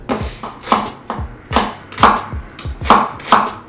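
A sharp chef's knife chops through an onion on a cutting board in a steady run of crisp, close knocks, about two per second, with no talking.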